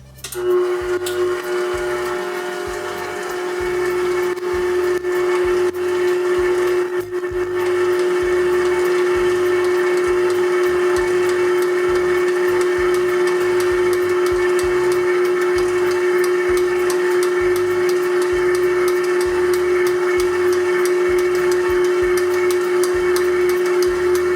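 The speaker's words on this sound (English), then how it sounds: "So we're going to mix it, and then we'll let it mix to knead for 3 minutes." A stand mixer kneads homemade bread dough, giving a steady, loud motor whine over rhythmic low thumping that runs throughout with no talk.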